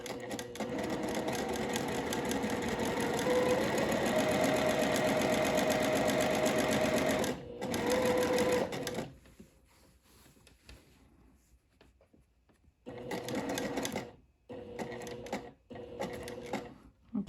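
A home sewing machine stitching a French seam pocket, a rapid mechanical chatter running steadily for several seconds, pausing, then resuming in shorter bursts with quiet gaps between.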